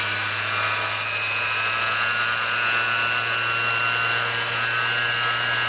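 A mini bench grinder/polisher with flexible shaft, rated 0–10,000 RPM no load, runs with a continuous close high motor whine as its speed is turned up.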